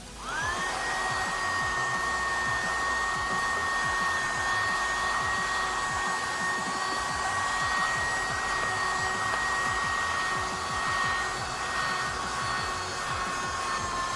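A less-than-$2 USB mini keyboard vacuum spins up quickly and then holds a steady, high whining drone with an airy hiss, running alone at close range.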